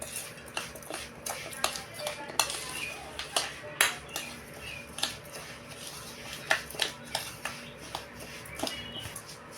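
A spoon stirs boro in a pot, clinking and scraping against the sides in irregular taps over a quiet room, with faint speech here and there.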